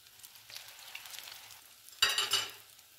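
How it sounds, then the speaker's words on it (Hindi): Aloo tikki frying in oil, with a faint, low sizzle that suddenly swells into a loud, crackling burst of spitting oil near the end. "ये इतनी अच्छे तरीके से फ्राई हो रही है"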